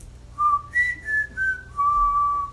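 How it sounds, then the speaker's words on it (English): Whistling of the tune Dashing Through the Snow, a clear melody of several sustained notes rising and falling, sounding like one clean whistled line over a quiet low hum. "now we're going to whistle Dashing Through the Snow."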